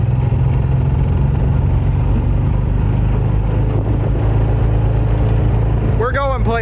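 A 1995 Kawasaki Mule KAF620A utility vehicle engine runs steadily up close, a loud continuous drone with a brief whining rise near the end.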